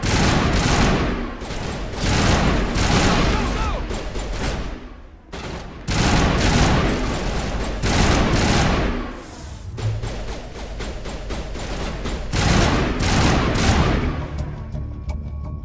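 Sustained gunfire from a firefight against mercenaries in the video game Mass Effect, loud and dense with bursts of rapid shots, booms and thuds, with brief lulls between volleys.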